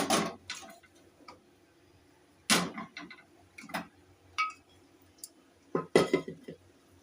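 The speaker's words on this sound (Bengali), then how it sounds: "এবার দিয়ে আমি একটু ভালো করে নাড়বো।" Boiled mung dal with fish head being stirred in a metal pot, producing irregular clinks and scrapes of a spoon against the vessel, close and fairly quiet, with gaps between strokes.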